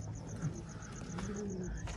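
Cooing of a Malwai desi fancy pigeon, soft low murmurs that repeat with steady background noise and faint high chirps, no voices.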